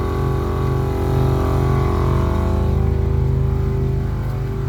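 An air suspension compressor pumps up a newly finished hardline setup in the trunk of a Golf MK7.5, giving a steady, loud motor drone that holds constant and close throughout.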